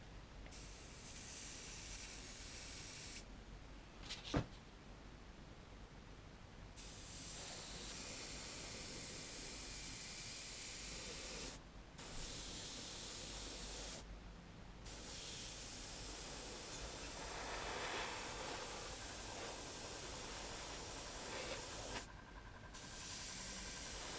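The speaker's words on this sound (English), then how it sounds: "So I've got my airbrush all set up here" An airbrush sprays paint onto a Tamiya 1/12 Ducati 916 model, a steady soft hiss in long bursts separated by short pauses, quiet and close with no speech.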